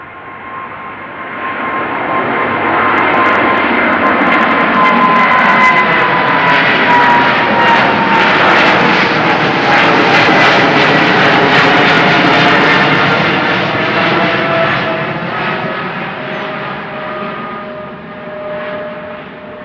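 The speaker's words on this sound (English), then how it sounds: "this is KLM flight 691, 777-200ER outbound Toronto" A KLM Boeing 777-200ER airliner outbound to Toronto roars past, its jet engine noise swelling over several seconds, holding loud and steady, then slowly receding.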